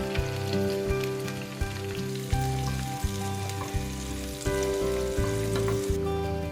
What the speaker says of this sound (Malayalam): എണ്ണ ചൂടായി കഴിയുമ്പോൾ കട്ട് ചെയ്ത് വെച്ചിരിക്കുന്ന ചെറിയ ഉള്ളിയും വറ്റൽമുളകും ചേർത്ത് മൂപ്പിച്ചെടുക്കാം.